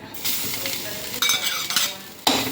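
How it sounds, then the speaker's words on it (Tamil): Dried red chilies roasting in a hot pan, a close, bright sizzle with repeated scraping and clinking of a spatula against the metal as they are stirred, in short bursts. "இந்த மாதிரி வரமிளகாய் வறுத்துக்கிடுவோம்."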